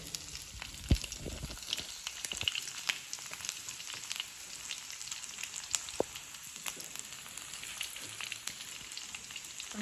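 Four garlic cloves and two dried red chillies fry in oil in a pan, giving a steady, close sizzle with scattered pops and crackles for several seconds and no talking.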